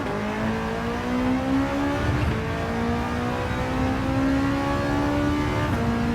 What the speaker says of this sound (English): I love the way this thing revs